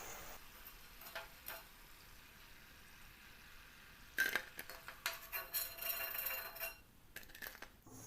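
Vada made from leftover rice deep-frying in hot oil gives a soft, steady sizzle, with a few clinks of a utensil against the pan and louder bubbling bursts when pieces are turned or stirred.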